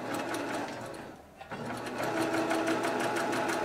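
A sewing machine with a single-hole needle plate stitches through a quilt, running steadily and loudly with a brief slowdown partway before resuming at full speed.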